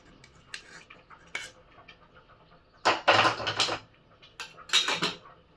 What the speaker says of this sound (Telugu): ఇప్పుడు మనం స్ట్రైనర్లో వడగట్టుకుందాము